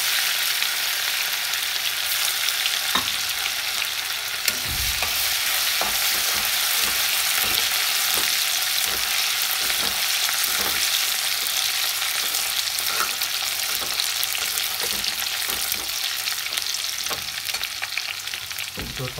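Crushed garlic and ginger frying with chillies in hot oil for village-style palak paneer, giving a steady, close, loud sizzle throughout with occasional stirring scrapes and clicks, no talking.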